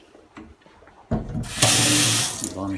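A household water tap turns on with a sudden rush and then runs strongly under high pressure during a home inspection, a loud close hiss of flowing water after a quieter start.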